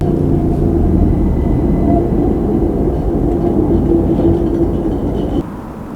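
An Estonian tram passes at speed, a loud steady rolling rumble of wheels on rails with faint squealing tones, close by and continuous, easing slightly near the end.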